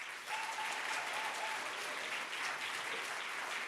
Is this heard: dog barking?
no